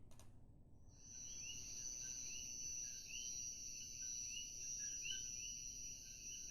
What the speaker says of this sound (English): Sound of the coqui.